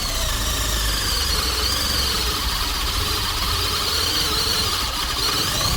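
A LEADER cordless drill driver boring with a 14 mm spade bit, a steady loud motor whine with a high squealing edge and rumbling vibration running continuously throughout, no voices.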